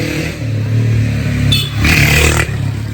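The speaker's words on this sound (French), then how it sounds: "Tiens, voilà la moto brésilienne." A Brazilian motorcycle passes close by with a loud, steady engine drone, briefly revving harder as it goes past, with no voices over it.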